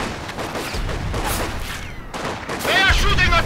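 Rifle and machine-gun fire crackles in a Soviet campaign battle of Company of Heroes 2, with rapid bursts and sharp shots over continuous battlefield noise while soldiers shout.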